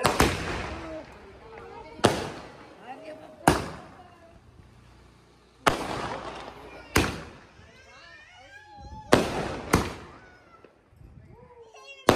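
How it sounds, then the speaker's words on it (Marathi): Rope bomb firecrackers bursting during a Diwali celebration: a series of sharp, loud blasts at irregular intervals, each decaying quickly, with a cat meowing and faint background voices between them. "आता रस्सी लावता. रस्सी बॉम्ब."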